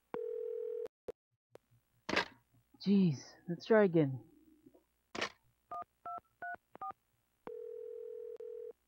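Telephone in the PS1 game Clock Tower: a steady dial tone plays, then a voice speaks, followed by four quick DTMF dialing beeps and the dial tone returning.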